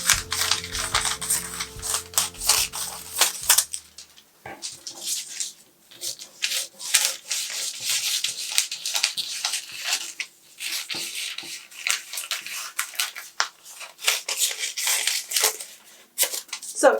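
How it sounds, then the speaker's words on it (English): Scissors cut along the underarm seam of a paper sleeve pattern, giving a close, continuous crisp rustle and scrape with short pauses, preceded by a brief low thump at the start. "I'm quickly going to cut along this underarm seam"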